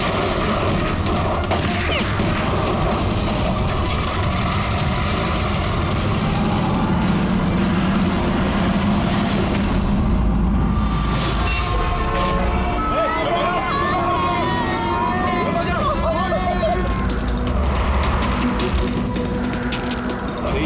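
Car engine during a chase, mixed into a loud, busy dramatic scene with music and rattling mechanical noise; voices speak over the engine throughout.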